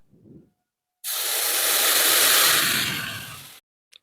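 Water poured into a hot pan of ghee-fried vermicelli, a single loud hiss that surges up, holds for about two and a half seconds and cuts off, with faint clatter before it.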